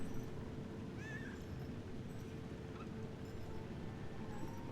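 A cat in the Lies of P video game gives a short, thin meow, faint and brief over a constant low game ambience.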